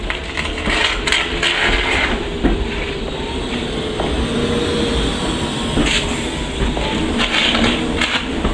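A train rolling slowly backwards along rails, a steady loud rumble with hiss and occasional wheel clicks running throughout.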